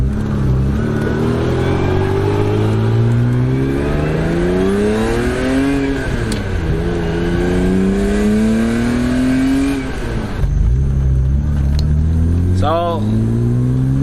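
A BMW E34 M5 back on the road after a rear half axle replacement, its engine droning loudly through rising and falling revs from inside the car while people talk over it.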